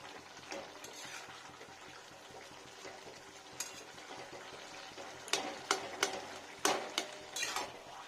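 A spoon scrapes and clinks through spinach greens cooking with lentil dumplings in a pan over a low, steady sizzle. Several sharper stirring knocks cluster toward the end, all fairly faint.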